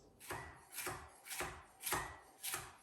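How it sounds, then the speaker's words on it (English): A knife slices through a red pepper on a cutting board, five crisp, evenly spaced cuts landing about every half second, close and clear with no talking. "we've got some red pepper. We're just going to give this a bit of colour as well. So we're just going to do a few slices"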